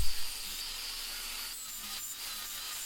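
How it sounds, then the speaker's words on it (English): A grinder fitted with a brand-new flat disc works a knife edge, giving a continuous, close abrasive hiss with slight wavering in pressure. "This is a brand new flat disc, but it's not going all that quickly."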